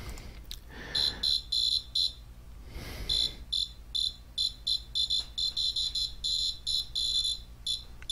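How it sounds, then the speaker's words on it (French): A small buzzer on a homemade MIDI controller built for an SSTC plays a soundtrack as a rapid run of bright, high electronic beeps in a stuttering melodic rhythm, close and clear over faint background hiss. "vous allez entendre plutôt le son sortir du buzzer"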